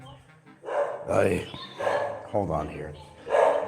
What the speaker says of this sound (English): If I don't let her in, she's going to be barking the whole time.